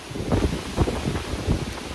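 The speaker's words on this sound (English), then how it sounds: "It's so windy out here." Strong wind at a lakeshore beach at Miners Beach, Pictured Rocks, buffeting the microphone in loud low gusts that swell and ease over two seconds.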